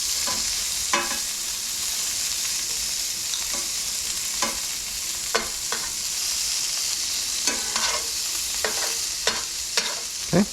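Asparagus browns in a hot pan with oil, giving a loud, steady sizzle up close, broken by occasional scraping stirs and taps of a utensil against the pan.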